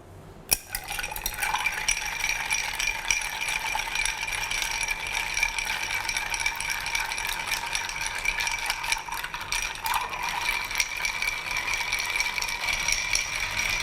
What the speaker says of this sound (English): I could just watch people stir ice in cocktails all day.